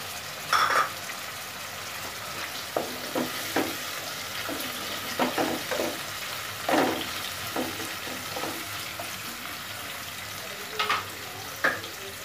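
Whole green chilies and potato pieces fry in hot oil in a home kitchen pan: a steady sizzle runs throughout, broken by scattered sharp crackles and spatters, with occasional clinks of a utensil stirring.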